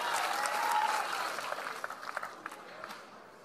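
Fans at a Seattle pickleball match break into applause that starts loud and thins to scattered claps, with a commentator's voice faintly underneath.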